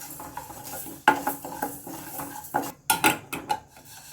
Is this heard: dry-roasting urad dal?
yes